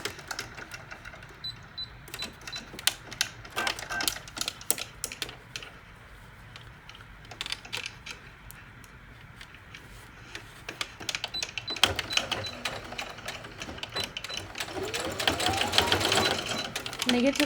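Sewing machine running a straight stitch to hem folded fabric from old basketball shorts, with bursts of stitching and pauses, the whirring rising toward the end, close and fairly clear with talk in places.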